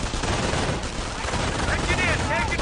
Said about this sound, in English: Oh, they're taking MG fire to the face